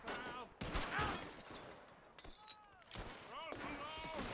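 Gunfire from the video game Red Dead Redemption 2: several sharp shots in quick succession with ringing tails, played loud over a continuous game soundscape.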